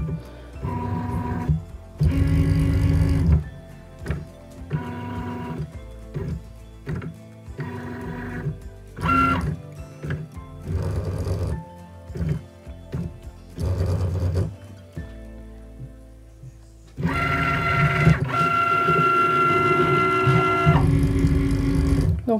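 A Cricut cutting machine whirs in repeated short motor bursts separated by brief pauses while it scans the four edges of its material, ending in a longer sustained run, close and fairly loud with no talking.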